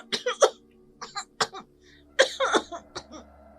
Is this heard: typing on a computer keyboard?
no